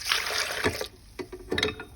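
Cooled potato cooking water is poured into a tablespoon of yeast, giving a short splashy trickle followed by a few quieter separate drips and pours, close and soft.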